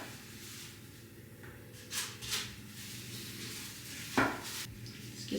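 A knife slices through zucchini on a cutting board, making a few faint, scattered cuts and taps against a quiet kitchen background, with one sharper knock near the end.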